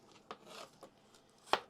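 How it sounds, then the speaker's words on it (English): A knife cuts apples into thin slices on a board, making a few soft, quiet strokes and then one sharper close knock at the end. "cut them really thin because you don't want a thick apple"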